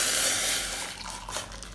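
Boiling water, just taken off a gas stove, poured into a glass in one brief, steady, close splash.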